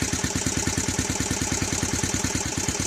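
A Yamaha Vixion motorcycle engine idles close by with a steady, even rapid pulsing beat, alone and unbroken throughout.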